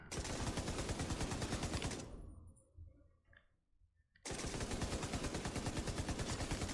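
Sustained M60 machine gun fire in The Division 2, a loud, rapid, evenly spaced stream of shots that stops for about two seconds of quiet clicks and rattles, then resumes at the same steady rate.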